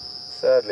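A cricket calls at night on a game reserve safari drive, a steady high continuous trill heard up close and clearly, with a person's voice speaking briefly over it.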